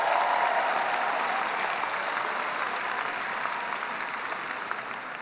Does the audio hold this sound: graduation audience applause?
yes